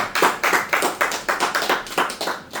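A church congregation claps in a steady, even rhythm, about five claps per second, loud and close, with no voices over it.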